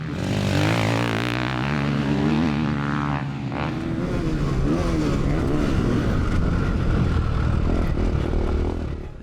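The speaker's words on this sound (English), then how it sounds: "Using all the power of that big 450 out of the corner there." A big 450 dirt bike engine, raced against a Ducati, revs hard out of a corner, a loud buzzing wail climbing and shifting in pitch before settling into a steady drone.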